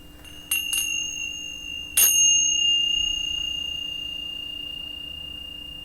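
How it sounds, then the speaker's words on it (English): Meditation bells are struck, two quick light tings and then a stronger third strike, each leaving a clear high ringing tone that lingers and slowly fades in a quiet room. "I'm going to ting my bells here."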